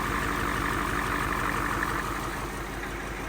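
A diesel truck engine running on used motor oil idles close by with a steady, even low-pitched chug and regular knocking pulses throughout.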